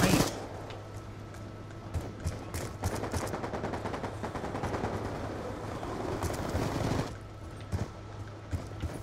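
Gunfire in the Black Ops 2 video game during team deathmatch, with dense rapid automatic bursts and single shots running almost continuously and fading near the end, at moderate volume with no talk heard.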